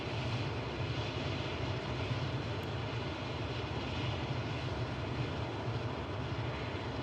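A propeller airplane engine in Microsoft Flight Simulator 2024 runs with the throttle pulled all the way out, a steady low droning hum at moderate level with no talk.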